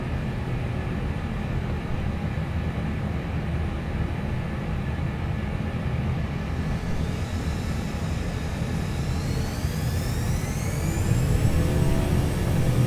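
An Edelweiss A340-300 jet taking off in MSFS2024, a loud continuous engine roar with rising whine as power builds, steady and unbroken with no talk.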